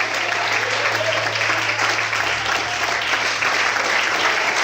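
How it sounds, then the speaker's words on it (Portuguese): A church congregation applauding to glorify God at an evening service, a dense, loud, continuous wash of many hands clapping that holds evenly for several seconds. "aplauda e glorifique a Deus nessa noite"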